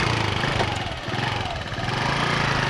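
A school-area motorcycle engine running steadily nearby, a continuous, rough, mid-pitched drone without breaks or revving.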